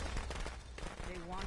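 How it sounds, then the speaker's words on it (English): Firecrackers go off in Friday the 13th: The Game on PS4, a fast run of sharp crackling pops packed close together, with a voice rising near the end. "Firecrackers stunned me, which is what just happened there."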